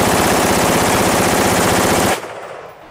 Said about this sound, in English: First, we'll start with the AR-15 with a 50-round magazine.